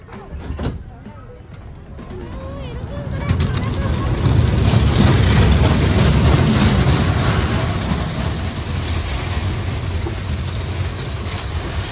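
A dragon train amusement ride at Dheusagar Park in Digha, heard as a loud, rolling rumble that builds over a few seconds and then holds steady, with people's voices mixed in.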